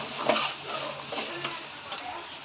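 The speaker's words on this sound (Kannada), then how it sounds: "ಒಂದು ಉಳ್ಳಾಗಡ್ಡಿ ಕೂದಿರ್ತಿರಲ್ಲ ಅದನ್ನ ತೊಗೊಂಡು ಕಡಾಯಿಗೆ ಹಾಕ್ರಿ. ಹಾಕಿ ಅಲ್ಲಾಡ್ಸ್ರಿ ಬ್ರೌನ್ ಆಗೋ ಮಟ್ಟ" Chopped onion stirred in a hot kadai on a gas stove, a steady low sizzle of frying broken by scraping spoon strokes and light clinks against the pan, close and continuous.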